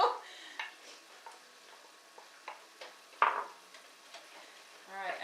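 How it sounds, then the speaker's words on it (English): Onion stirred in a hot pan for beef enchiladas, with soft sizzling underneath and scattered scrapes and clicks of a utensil against the pan, one sharper scrape partway through, all fairly quiet and without talk. "go ahead and add your onion"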